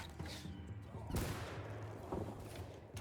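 Gunshot in the samurai-era game Shokuho, a sharp broadband crack around mid-clip followed by a second, lighter report near the end, over a steady low game rumble.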